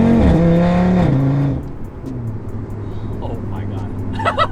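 An Audi RS3 with an AWE exhaust and muffler revs loudly at close range, its engine note rising and falling before settling to a lower idle rumble, while a voice talks over it.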